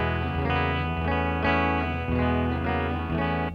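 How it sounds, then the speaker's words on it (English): Clean electric guitar through a Marshall Astoria amp, with a light shimmer on the tone, plays a few strummed chords in a steady rhythm, close and sustained, alone. "And the Marshall Astoria sounds like this."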